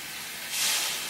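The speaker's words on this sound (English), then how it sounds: "add a little water" Water poured into a hot pan flashes to steam with a broad hiss that swells halfway through and stays loud and close, with no talking.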